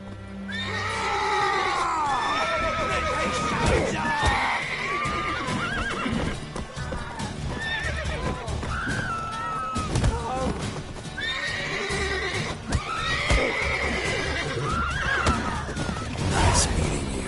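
Horses in The Witcher 3: Wild Hunt whinny and neigh repeatedly with hoof clip-clop, loud and busy, mixed with in-game voices talking and shouting.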